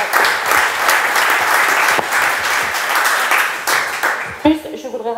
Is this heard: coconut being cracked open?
no